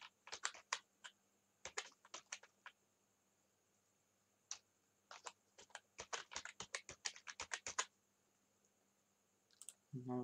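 Quiet clicks of a computer keyboard as a mobile number is typed into a registration form, coming in short irregular bursts of keystrokes with pauses between them.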